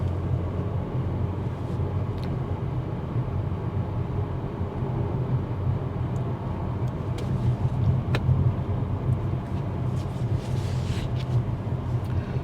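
A car rolling along in congested highway traffic at about 40 mph, with a steady, continuous low road and engine rumble heard from inside the cabin and a few faint ticks and clicks.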